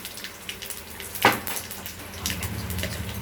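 Green chillies, mustard seeds and curry leaves fry in hot oil with a steady crackling sizzle, broken by a sharp spatter burst and light clinks of a utensil stirring the pan.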